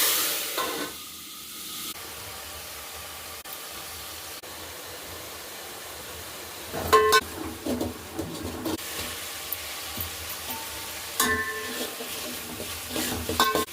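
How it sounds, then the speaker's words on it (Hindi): Spice tempering sizzles in a pan over vegetables in a home kitchen, a steady fizzing hiss with bursts of stirring and crackle, heard close with no talk. "अब मैं लगा रही हूँ सब्जी में तड़का"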